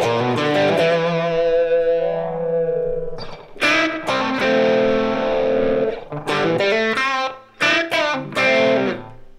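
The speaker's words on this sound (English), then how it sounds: "The way I designed this effect was I used Ableton's new echo effect, which is just so great." An electric guitar runs through the Ableton Live echo effect: distorted, sustained notes and short phrases with echoing repeats trailing off between them, loud and close.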